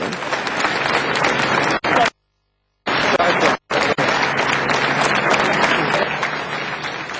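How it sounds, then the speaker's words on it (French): A large crowd at a march in Paris applauds steadily with continuous clapping and cheering, broken by two short silent gaps. "sous les applaudissements de la foule"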